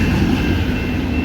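CSX intermodal freight train hauled by an AC44 and a rebuilt EMD SD70MAC locomotive passing at speed near Hood siding, a steady loud rumble with continuous engine drone and wheel noise throughout, no voices.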